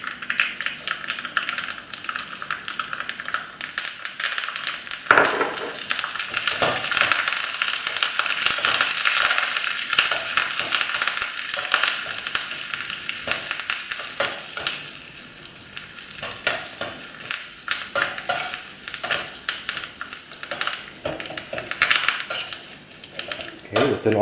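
Red chilies and curry leaves crackle and splutter in hot oil for a Kerala prawn and green mango curry, a loud, dense, continuous frying roar with metal utensil scrapes and clinks throughout, close up, no voices.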